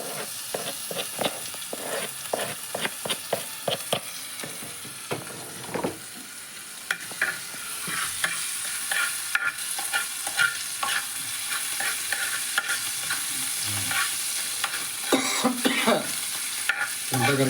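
Masala spices for a Rajasthani paratha filling, with green chilli, fry in a pan while being stirred, a steady close sizzle punctuated by repeated scraping and clacking strokes of the spoon throughout.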